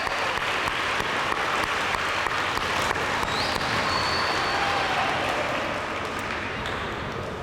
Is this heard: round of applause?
yes